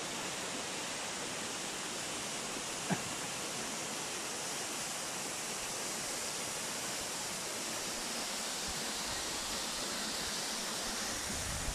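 A steady, powerful rush of falling water from Al Hada waterfall in Saudi Arabia roars on without pause, broad and unchanging, filling the whole space.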